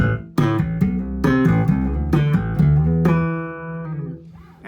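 Slapped Lakland Skyline Geezer Butler signature passive four-string bass, sharp percussive thumb hits and popped notes in a syncopated line, ending on a ringing held note; played solo and up close.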